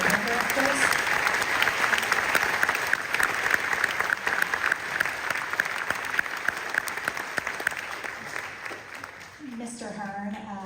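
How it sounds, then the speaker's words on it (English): An audience at a District 5 honor band concert applauds the band directors with a loud, steady clapping that fades near the end as a voice begins speaking. "Can we give a big, warm round of applause for all of the band directors?"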